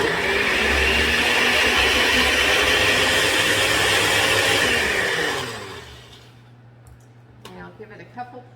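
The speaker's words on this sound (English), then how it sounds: "place it in the blender, place it on the electric motor, and we are going to hit frappe" A blender with an electric motor base whirs loudly and steadily as it chops dried garden flowers for soap, then winds down and stops, leaving a low hum and a few faint clicks.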